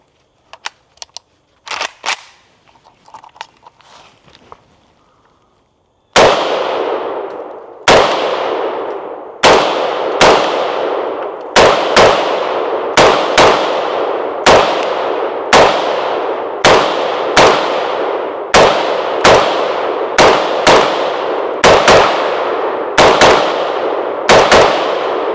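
Palmetto State Armory AK-47 rifle fired in a steady series of about fifteen loud, sharp single shots, each with a short ringing decay, after a few fainter handling clicks and knocks at the start.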